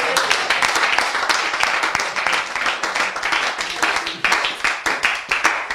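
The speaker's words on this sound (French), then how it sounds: "On acclame pour vous." A church congregation applauds after a prayer, with dense, sustained clapping from many hands that carries on steadily throughout.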